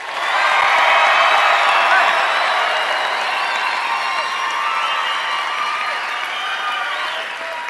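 Audience at a slideshow karaoke night bursts into sustained applause with cheering and whoops, a dense crowd roar that holds steady throughout and tapers slightly toward the end.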